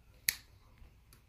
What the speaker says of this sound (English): Every time I snap my fingers, it's just like that.